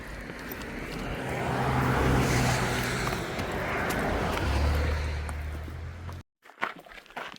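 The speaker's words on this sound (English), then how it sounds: "I hear a car coming." A car approaches and passes along a nearby road by the Appalachian Trail in North Carolina, its broad rushing noise swelling and fading over several seconds before cutting off abruptly.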